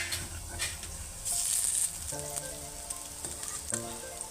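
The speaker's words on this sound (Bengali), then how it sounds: "একদিকটা ভাজা হয়ে গেলে পরে উল্টে আমি আর একদিকটা ভেজে নিচ্ছি বন্ধুরা।" Cabbage pakoras sizzle in hot oil, a soft steady crackle with a brighter burst of spattering midway and faint scrapes as the fritters are turned.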